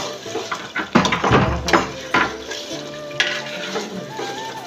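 Chicken that has been cooked down in a pan for biryani sizzles while a spoon stirs it, with irregular scraping and clanking strokes over a steady frying hiss.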